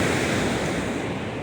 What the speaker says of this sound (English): I'll put the ocean behind me because it's so beautiful